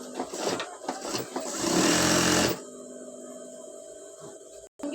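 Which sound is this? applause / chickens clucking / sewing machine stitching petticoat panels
sewing machine stitching petticoat panels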